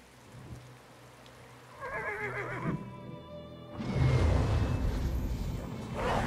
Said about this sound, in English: Such a beautiful horse.